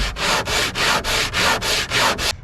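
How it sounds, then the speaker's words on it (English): Folded sandpaper rubs back and forth over wood aboard a wooden boat, about eight loud, even rasping strokes in a steady rhythm, close up and alone. "I'm just fold my sandpaper against it, get a nice crisp edge on it, and in we go"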